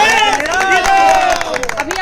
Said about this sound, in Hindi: देख रहे हैं जिस तरह से यहाँ पर ताली की गड़गड़ाहट चल रही है।